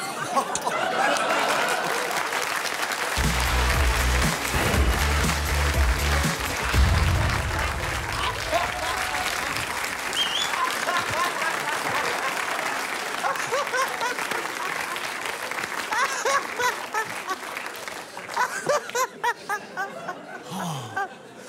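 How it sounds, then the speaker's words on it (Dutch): A studio audience applauds mevrouw de Groot, a long, loud wash of clapping with scattered laughter and chatter that gradually thins, while a voice briefly talks over it early on. "nog één keer een heel, heel hartelijk applaus voor mevrouw de Groot"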